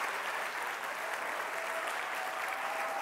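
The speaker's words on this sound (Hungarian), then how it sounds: "Tapsoljuk meg erről a helyről is tanárnak." An audience applauding a teacher at a Hungarian Reformed school's year-end ceremony, a steady, even wash of many hands clapping continuously at fairly loud level with no talk over it.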